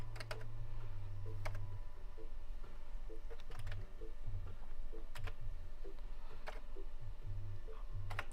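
Keys tapped on a Commodore VIC-20 keyboard during a whack-a-mole game, a quiet, irregular run of clicks and taps with low background hum.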